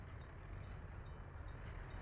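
A coal import train in the video game Workers & Resources: Soviet Republic gives off a steady low rumble with faint rail rattle, continuous and even throughout, with no talking.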